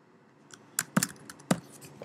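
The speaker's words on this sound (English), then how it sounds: "and then just type whatever you want on the keyboard" A handful of soft keyboard taps, irregularly spaced, with two sharper keystrokes standing out against a quiet background.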